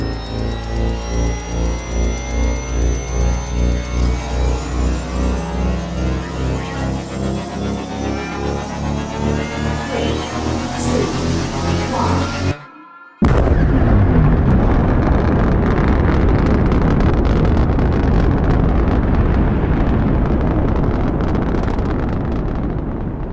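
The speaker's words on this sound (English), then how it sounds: "The engine is starting up." An engine starts and runs, a rhythmic pulsing drone that cuts out briefly before giving way to a louder, rougher roar with heavy wind buffeting.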